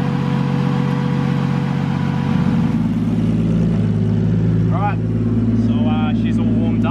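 A car engine revs while warming up in a driveway, a close and loud mid-pitched drone that shifts and climbs partway through, with voices talking over it.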